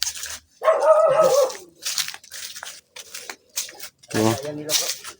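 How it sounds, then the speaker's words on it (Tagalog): A stray dog barks a few times at a distance in a forest, short harmonic yelps between stretches of quiet, with faint voices now and then. "May ligaw na aso, no?"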